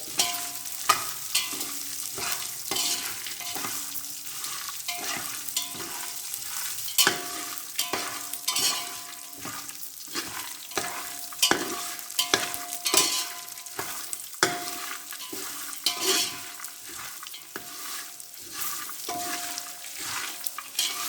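Raw peanuts roast in a pan under constant stirring, rapid rattling scrapes and taps repeating irregularly over a low sizzle, close and busy for the whole stretch, no speech.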